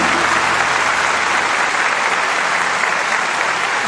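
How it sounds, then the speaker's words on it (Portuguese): A church congregation applauds in praise of Jesus, a dense and steady wash of clapping that holds loud and even from start to finish with no voices standing out. "Parabéns. Aplaude Jesus."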